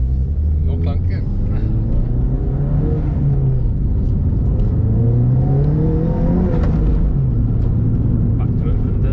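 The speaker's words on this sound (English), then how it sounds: "So, let's go for a test drive." A Ford Fiesta on a test drive after differential repair hums loudly from inside the cabin, its engine note rising and falling through several smooth accelerations over a steady road rumble.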